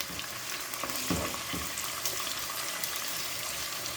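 Chicken pieces frying in a karahi with no spices yet, giving a steady dense sizzle with a few louder stirring or shifting scrapes near the middle, close and continuous throughout.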